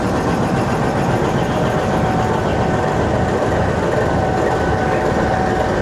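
A heritage safari special train hauled by diesel locomotive 4557 between Attock Khurd and Golra Junction, a loud, steady engine rumble and rolling rail noise heard close from on board, continuous with no talk.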